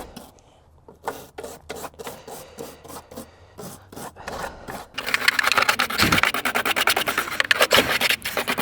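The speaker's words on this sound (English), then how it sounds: "Take a rag, get our brush, get all this crud away from the opening in the tank." Stiff brush scrubbing rust debris and crud away from the opening of an Audi A4 fuel tank, starting with scattered rubbing strokes, then a loud, dense, continuous rasping scrub up close with no talk.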